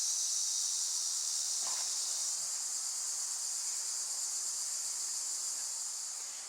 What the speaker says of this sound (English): somebody asked me if this was cicadas or grasshoppers.